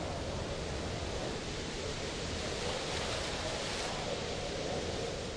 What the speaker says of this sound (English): an east wind blew out of the desert and cut the sea.